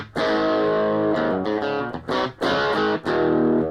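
An electric guitar played through the crunch channel of a Boss Katana MK1 amp rings out in sustained, overdriven chords and notes, with a few brief pauses and pick attacks, loud and close with no talking.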